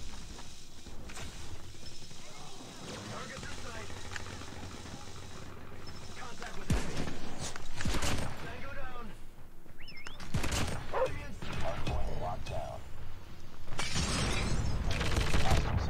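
Sniper rifle shots in the mobile shooter game COD Mobile ring out as several loud, sharp bursts amid steady game ambience and footstep-like clatter, with a player talking over the action.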